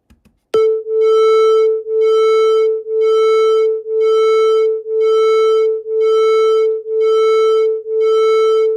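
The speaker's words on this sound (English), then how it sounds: "They are off by 1 hertz and you can see that waviness in the sound." Two steady sine-like tones held together, tuned 1 hertz apart, swell and fade in a slow, even beating, with about one throb per second for over eight seconds after a short tap. The sound is loud and continuous, with no voices.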